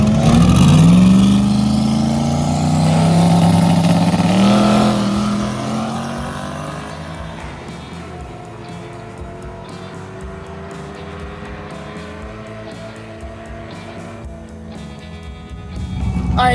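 A slick-tire Chevrolet Nova race car launches and accelerates hard down a drag strip during a Big Sky race week event, its engine roaring loudly and climbing in pitch before fading into a steady distant drone as it pulls away.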